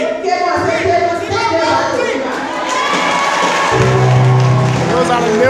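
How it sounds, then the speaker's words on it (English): Male coordinators at a community land-donors' gathering applaud a speaker, a loud crowd of clapping and cheering voices filling the space, with chatter mixed in and a low hum joining toward the end. "Those are the male coordinators applauding her for her remarks"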